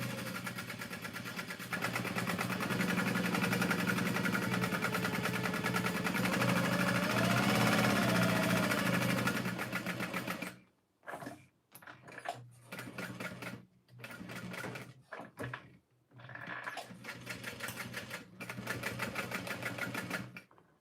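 Sewing machine stay-stitching or basting the wrong sides of fabric pieces together, running steadily and loudly for about ten seconds before breaking into short stop-start bursts with brief pauses between them.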